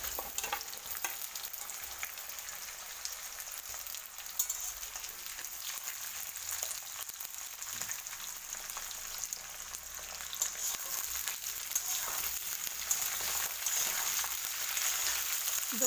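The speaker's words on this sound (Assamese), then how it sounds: "জলফাইখিনি ভালকৈ লৰাই দিছোঁ" Olives frying in hot oil with dried chillies and cardamom, stirred continuously; a dense, steady sizzle with scraping spoon strokes running throughout, close and moderately loud.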